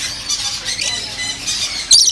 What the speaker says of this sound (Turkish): Papağanlara bakın.